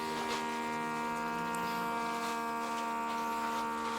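A vacuum sealer pump running steadily as it draws air out of a bag of meat, giving a constant electric hum and buzz with no break or change.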